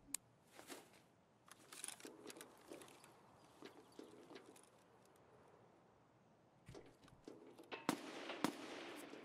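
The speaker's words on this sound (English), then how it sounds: "Is that scav shooting at you?" Gunfire in Escape from Tarkov on the Customs map comes as scattered, fairly faint shots and short bursts, spaced irregularly with a denser cluster near the end, heard at a distance.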